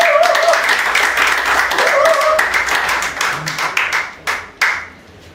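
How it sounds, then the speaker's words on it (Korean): Audience clapping welcomes the chairman onto the stage at a Korean civic association's weekly lecture, starting as a dense, steady burst, then thinning into scattered individual claps before fading out. "박수로 맞이해주시기 바랍니다."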